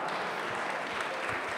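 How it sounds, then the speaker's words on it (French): Dense, steady applause from a gala audience fills the hall at close range, continuous and even throughout, with no break and no voices above it. "je voudrais qu'on applaudisse"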